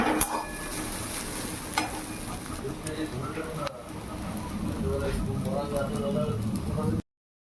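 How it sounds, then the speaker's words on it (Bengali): Flattened rice pulao with raisins and sugar is stirred in a hot pan, giving a continuous sizzle with scraping strokes of the spoon throughout. "আবার একটু নাড়াচাড়া করলেই আমার রেডি হয়ে যাবে চিড়ের পোলাও"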